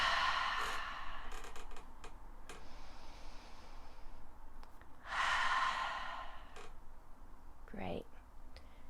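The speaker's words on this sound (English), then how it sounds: "The sound of the exhale is a little like the sound of the ocean." Slow, breathy ujjayi exhales during a yoga practice, each a soft, ocean-like rushing hiss through a narrowed throat, heard close and quiet twice, separated by calm pauses with faint creaks and shuffles.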